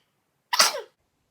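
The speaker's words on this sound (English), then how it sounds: "Excuse me, I had to sneeze." A single sharp sneeze from a person, close and loud, a brief burst in an otherwise silent moment.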